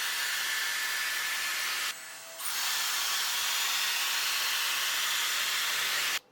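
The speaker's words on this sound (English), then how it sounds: "it also has the dry mode. So once your hair is dry, that's doing colder air." A Dyson Airstrait hair tool runs in dry mode blowing cold air, a steady loud broadband airflow hiss that dips briefly in pitch and level near two seconds, then resumes until cut off.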